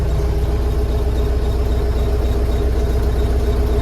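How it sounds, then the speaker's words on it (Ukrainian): A Scout 404C tractor engine idling as it warms up, a loud, steady close-up drone with a constant low rumble and no talking. "Прогрівається, в принципі, доволі швидко трактор."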